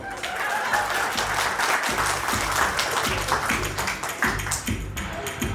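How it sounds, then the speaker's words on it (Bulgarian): Audience at a 50th jubilee party clapping steadily for a lady, dense hand applause from a crowd with voices mixed in underneath. "Аплодисменти за дамата"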